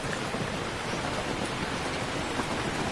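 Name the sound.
rain falling on a shelter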